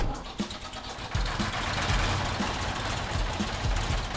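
A large tractor engine idles in the Farm-Experte 2016 farming game, a steady low rumble that stays loud and even throughout with a slight rise after the opening second.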